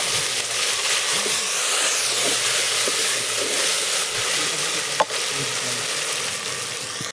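Vegetables for a traditional Bhogi bhaji sizzle steadily in hot oil seasoned with mustard seeds, cumin and garlic, a continuous close frying hiss with one sharp clink near the end.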